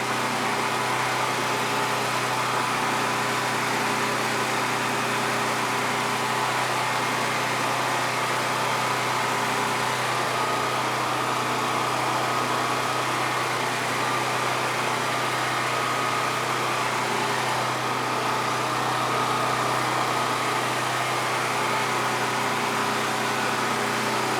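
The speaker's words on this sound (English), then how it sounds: "the generator goes through a cool down cycle" Westinghouse WGen9500 portable heavy-duty generator idling through its cool-down cycle after the load has switched back to utility power, a steady, close engine drone with a low hum that holds without a break throughout.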